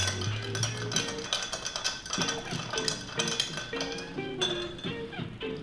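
An Old Fashioned cocktail stirred in a glass, with a steady run of light, ringing clinks of spoon and ice against the glass, close and continuous for several seconds with no talk.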